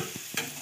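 Onion, capsicum and carrot fry in a pan with a faint, quiet sizzle, broken by a couple of soft stirring scrapes close by.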